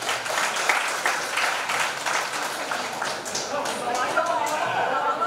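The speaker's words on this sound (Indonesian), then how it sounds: "mari kita iringi para Romo untuk naik ke atas panggung dengan tepuk tangan" Audience at a church thanksgiving celebration after a priest's first Mass in Jakarta applauding as priests go up on stage, a dense patter of hand claps with voices mixed in, steady and moderately close throughout.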